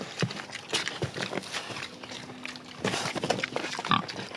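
A pig grunts and snuffles repeatedly while its feet scuff and tap over the ground nearby, in an uneven rhythm that runs throughout.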